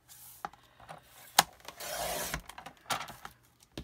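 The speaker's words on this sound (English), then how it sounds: "I gotta trim my folder. Cutting it down to 11." A paper file folder being trimmed gives short, dry scraping and rasping strokes, with a longer sliding cut in the middle and a few sharp clicks, close and fairly quiet.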